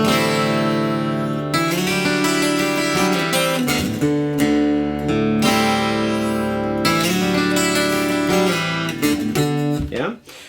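An electric guitar plays a riff at full tempo, with ringing, sustained chords and picked notes that fill the clip loudly and continuously until a brief drop at the end.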